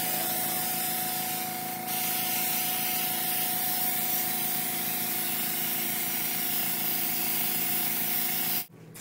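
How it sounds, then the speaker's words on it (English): Airbrush machine spraying Halloween makeup onto a face, a steady close hiss running almost without break for about nine seconds before cutting off abruptly near the end. "we've airbrushed the whole face with the airbrush machine"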